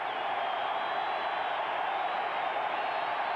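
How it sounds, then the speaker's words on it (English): Steady, distant roar of a football stadium crowd at a 1985 San Francisco 49ers at Denver Broncos game on third down, a constant wash of cheering without distinct peaks. "You'll hear the crowd get into it."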